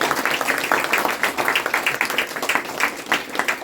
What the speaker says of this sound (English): So let us give him a round of applause.